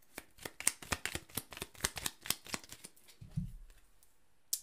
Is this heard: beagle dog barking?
no